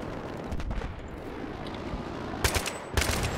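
Gunfire in Battlefield 3 as players shoot to clear mines on a street, with scattered muffled shots and then two loud, sharp bursts late on over a rumbling battle background.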